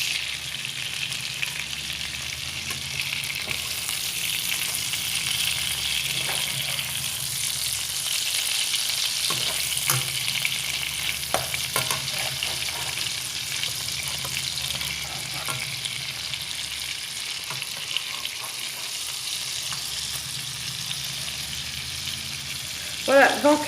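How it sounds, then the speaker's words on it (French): Chicken meatballs cooking in a pan, a steady bright sizzle of hot oil running throughout, with occasional soft clicks and scrapes from turning or stirring and a brief clatter near the end. "j'ai mis mes boulettes de viande de poulet là-dedans pour la faire cuire"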